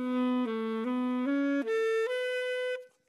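A saxophone played with a tight, pinched embouchure and voicing borrowed from clarinet technique, sounding a short phrase of sustained, stepping notes, solo and close, with a bright, reedy buzz.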